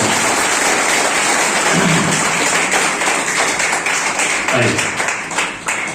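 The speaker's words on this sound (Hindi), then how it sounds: "उनका भी एक बार जोरदार ताली करें" Loud, dense applause from a student audience honoring a teacher at a Teacher's Day event, a steady rush of clapping lasting several seconds and tapering slightly at the end.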